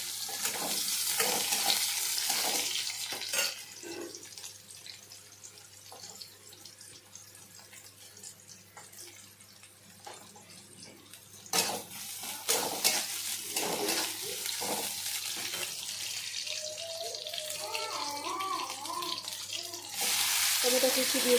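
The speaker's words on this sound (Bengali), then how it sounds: "এবারে আমি পেঁয়াজ কুচি দিয়ে দেবো।" Chopped onion frying in hot oil in a wok, a bright sizzle that opens loud, dies down while stirring clinks and scrapes come through, and then surges again near the end.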